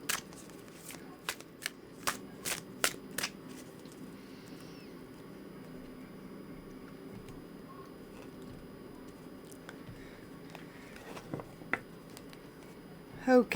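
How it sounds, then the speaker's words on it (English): A series of quick, crisp tarot card riffles and snaps near the start, followed by quieter handling and a few soft clicks; close and fairly faint. "I'm going to give the deck a good shuffle"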